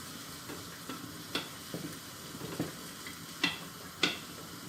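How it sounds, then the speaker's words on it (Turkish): A utensil stirs flour in a cooking pot, giving soft scraping strokes with a few sharper knocks against the metal, close and quiet with no talk. "topaklanmasın diye biraz karıştırayım da"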